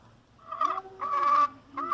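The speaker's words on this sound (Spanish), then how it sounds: "escuchó el canto de una gallina" A bird's harsh, honking calls sound in three bursts, the middle one longest, close and fairly loud with nothing else around them.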